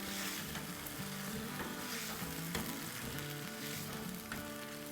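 Boiled chickpeas are stirred into keema pulao of ground meat and rice in a pot, with a steady close sizzle and scraping stirs throughout and no talking.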